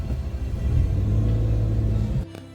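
Vehicles rumble in a traffic jam in Nagaland on a Saturday night, a dense low engine drone with a slight revving swell, easing off near the end.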